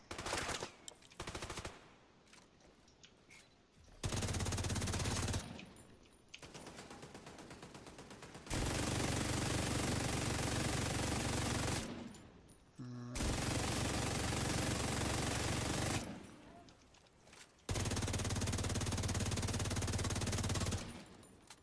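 A turret in The Division 2 fires its machine gun in repeated loud bursts of rapid gunfire, separated by short quieter gaps.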